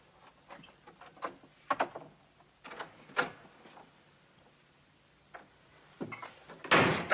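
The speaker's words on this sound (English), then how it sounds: "Stop slamming doors." Doors slam and bang several times at irregular intervals, sharp knocks and thuds of varying loudness over a quiet background, with a heavier crash at the end.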